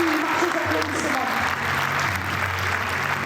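A crowd at a horse show in an exhibition hall applauds during a horse's exercise, giving dense, continuous clapping that fills the hall, with a voice speaking over it.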